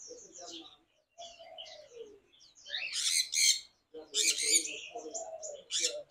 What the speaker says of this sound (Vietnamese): Đây là một loài vẹt khác này.